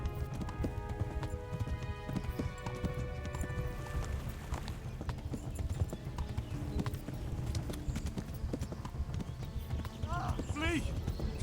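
Horse hooves galloping in Kingdom Come: Deliverance, a rapid continuous clip-clop under busy game noise and shouting voices, with a brief whinny near the end.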